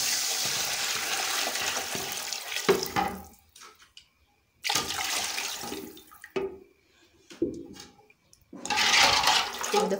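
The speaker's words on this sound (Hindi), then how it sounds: "अब हम इसमें पानी डाल देते हैं।" Water left over from boiling chickpeas is poured into a pot of chana pulao in three splashing bursts separated by short quiet gaps, close and fairly loud.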